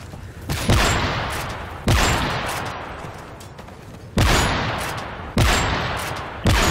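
Gunfire bursts in the video game Call of Duty: Generations, four or five sharp, loud reports spaced about a second apart, each tailing off under a steady wash of battle noise.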